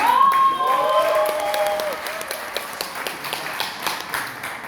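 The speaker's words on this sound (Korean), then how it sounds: "여러분 이 대목에서 큰 박수 다시 한번" An audience at a political party meeting breaks into applause, scattered claps rattling for several seconds while a brief tone sweeps at the start, then the clapping thins out and fades.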